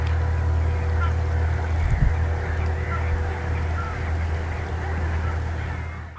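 Migratory birds resting at a stopover in the Darwin Nature Reserve, a steady, dense murmur of overlapping calls over a constant low engine-like hum that lasts throughout.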